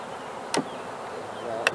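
Bees from a swarm catch hum softly and steadily on a comb frame, with two sharp, brief knocks standing out against the buzz.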